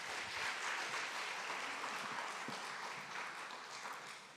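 A youth congregation at a church worship service welcomes a pastor with applause, a faint, distant wash of steady clapping that stays even and gradually softens.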